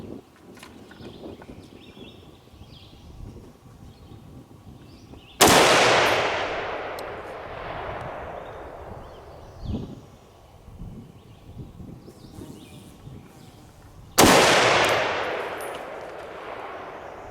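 Two loud, sharp rifle shots fired at a target ring out about nine seconds apart, each leaving a long decaying echo over outdoor wind noise.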